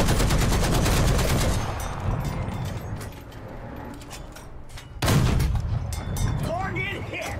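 Tank cannon fire in the War Thunder video game, featuring an M8 LAC light armored car at BR 1.0, sounds as loud gunfire and booms with a big blast near five seconds, under continuous battle noise and brief game voices.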